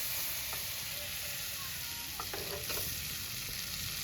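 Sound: chili paste and water added to hot tempering oil

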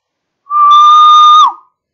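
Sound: whistle being blown

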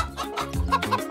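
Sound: chicken clucking

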